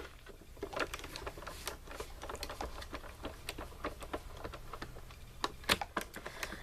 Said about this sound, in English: run it through your die cut machine